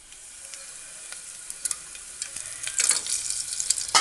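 Whole cloves, cardamom and pepper sizzling in hot oil in a pan with ginger garlic paste, a steady crackling fry with sharp pops and spatters building louder toward the end.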